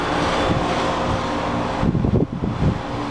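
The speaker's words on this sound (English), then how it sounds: "Here's your air conditioner unit." An outdoor residential air conditioner condenser unit, made around 2002, runs with a steady whirring fan hum and broadband rush, picking up some wind buffeting and a few knocks near the end.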